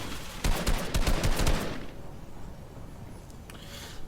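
Fortnite gunfire, a rapid volley of close, loud shots in the first half, then tapering into a quieter ambient tail with faint distant sounds.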